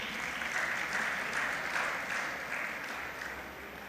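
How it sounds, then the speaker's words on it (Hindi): A church congregation claps together at a Catholic priestly ordination, sustained even applause at moderate distance filling the space steadily from start to finish. "आओ असी सारे तालियां वजा कर इन्हां दा प्रभु दा धन्नवाद करिए"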